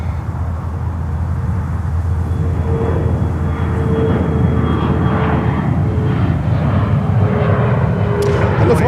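An Air Canada Airbus A220 in from Montreal rolls out and slows on runway 22 left at Newark, giving a steady, loud engine roar with a faint high whine throughout.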